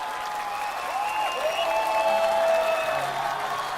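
Warm audience applause for two singers on a televised music stage, a steady wash of clapping from a large crowd with sustained musical tones ringing underneath.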